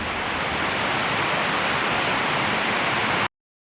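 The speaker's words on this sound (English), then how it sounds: "It's pouring to beat heck down in Bellevue." Heavy rain pours down on an eastern Iowa farm, a loud, continuous roaring wash of noise that holds steady and then cuts off abruptly near the end.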